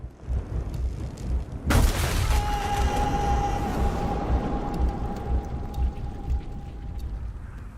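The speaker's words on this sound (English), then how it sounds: "I survived, and I thought I'd heard gunshots." Two sharp, loud gun cracks ring out in quick succession in the war video game 11-11: Memories Retold, followed by a long, fading tone over a deep, rhythmic rumble.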